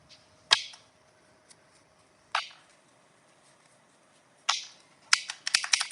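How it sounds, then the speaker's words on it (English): Tarot cards are shuffled close by in quiet surroundings, making a few short, crisp riffles and snaps spaced a couple of seconds apart, then a faster burst of flicks at the end. "I'm shuffling right now."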